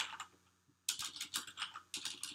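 Fingers type on a computer keyboard in quick, irregular bursts of clicking keystrokes with a short pause in between, close and clear with no talk.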